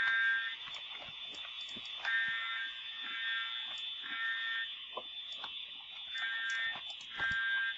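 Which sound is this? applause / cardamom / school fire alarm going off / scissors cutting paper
school fire alarm going off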